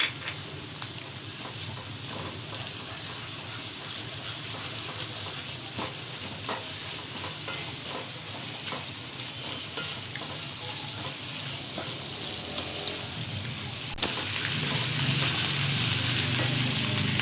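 Garlic-ginger paste, one tablespoon, sizzles steadily in hot oil while making a masala fish curry, a dense continuous hiss that swells louder and brighter near the end.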